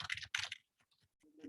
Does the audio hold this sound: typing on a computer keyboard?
yes